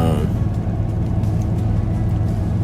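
A truck passes on a highway while the driver keeps to the right lane, giving a loud, steady, close road rumble with low engine drone that does not let up.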